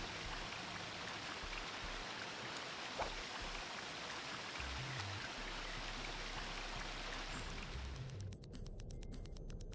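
Stream flowing around branches in the fishing game Fishing GeoGuessr, a steady soft rushing wash of water that stays at an even level throughout, with faint clicks near the end.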